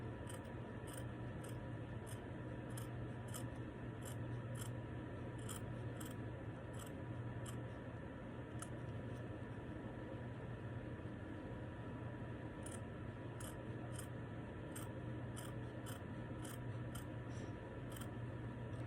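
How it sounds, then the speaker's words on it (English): Scissors cutting fabric pieces for a bee plush toy, a steady run of small repeated snips and rasping blade strokes, close and quiet, with no talking. "all I'm doing right now is I'm just going ahead and just cutting it out"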